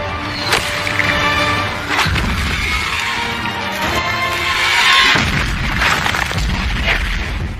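Gunpowder explosives blast at the Great Wall in a dramatic film scene: several deep, booming detonations with sharp cracks and rumbling tails follow one another over a continuous heavy, roaring bed of battle noise.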